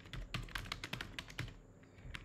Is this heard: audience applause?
no